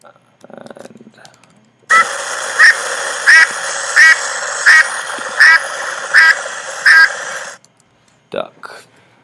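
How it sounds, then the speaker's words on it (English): A recorded duck quack from an animal sounds app plays as a steady run of seven or eight evenly spaced nasal quacks, loud and clear, with brief clicks before and after. "so let's see if we have a duck"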